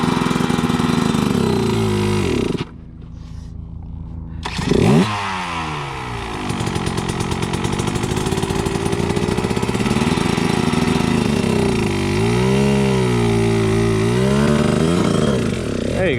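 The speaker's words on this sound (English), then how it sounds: "the back tire is gonna spin in that sand. You just gotta hold that, feather that clutch out" A KTM 150 XC-W two-stroke dirt bike revs hard with its rear tire spinning in sand, the engine note rising and falling through sustained throttle with a brief dip midway, loud and close throughout.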